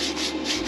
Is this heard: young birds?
no